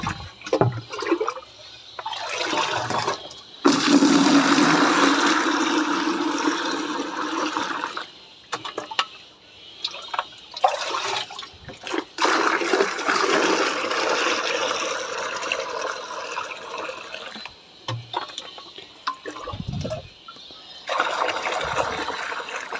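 Water runs and gushes into a container at home as it is filled for children, a loud steady splashing stream that pauses briefly and restarts several times.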